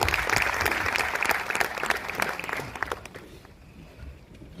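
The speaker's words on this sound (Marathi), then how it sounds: "टाळ्या वाजल्या पाहिजे जोरदार" A theatre audience at a stage event claps loudly and steadily, the applause fading away toward the end.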